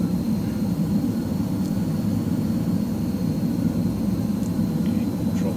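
Steady broadband roar of a BAe Hawk T.2 jet engine in a flight simulator, holding an even, continuous drone with little audible rise in throttle across the stretch.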